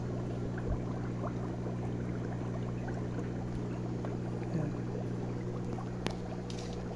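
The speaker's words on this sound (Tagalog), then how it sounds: "Bawasan natin ito ng tubig." Water drains from a fish breeder tank in a continuous, close, even pouring and gurgling wash with a steady hum underneath, without any talk.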